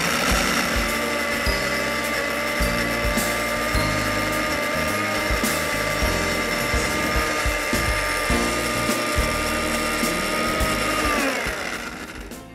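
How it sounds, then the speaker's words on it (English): A blender whirs steadily as it blends cocoa butter with unsweetened ingredients, running loud and continuous with a strong motor hum and whine, then winds down and stops near the end. "Start with low in your blender and gradually move to high."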